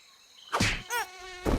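A mosquito whines close by in loud, wavering buzzing bursts that swell and fade as it moves, with no voices present.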